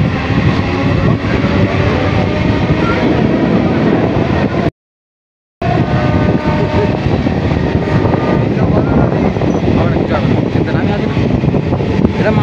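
A local train between Krishnanagar and Ranaghat rumbles steadily with a loud, continuous broadband roar of wheels and motion, briefly cut to silence midway before the same din resumes.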